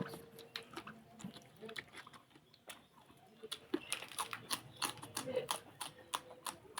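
Crisp, crunchy bites of raw papaya stalk with carrot during a mukbang, a run of sharp, close clicking crunches that grow denser and louder toward the end, with soft background noise.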